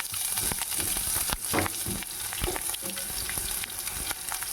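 Onion, tomato and chilli frying for sabbakki upma on a low gas flame, a steady close sizzle broken by repeated scraping stirs, with no talking.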